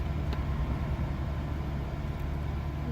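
A 2009 Volvo S80 engine idles with a steady low rumble, close and constant throughout with no talk.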